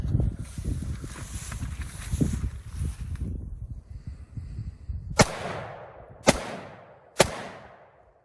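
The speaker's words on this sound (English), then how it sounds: "After it fires, the bolt will go back. You let off, and it'll fire again. So we'll go to semi." An AR-15 rifle fires three separate semi-automatic shots, each sharp loud crack trailing off into a decaying echo. The shots are roughly a second apart and follow a stretch of low rumbling handling noise.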